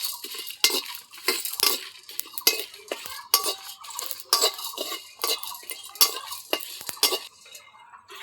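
Dry red chilies, black pepper and radhuni toasting lightly in a pan are stirred with a metal utensil in a quick run of clinks and scrapes over a faint sizzle.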